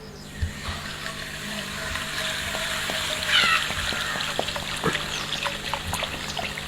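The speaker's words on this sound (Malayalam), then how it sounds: "നമ്മൾ നേരെ നല്ല ചൂടുള്ള പാനിലേക്ക് ഒഴിച്ചു കൊടുക്കുകയാണ്" Coca-Cola pours into a hot pan with a running, trickling splash and faint sizzle, punctuated by small pops and ticks, heard fairly close over a low steady hum.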